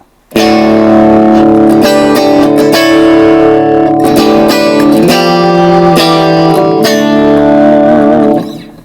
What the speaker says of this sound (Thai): มันก็จะกลายเป็นดีเลย์สลับแบ็กชัดเจน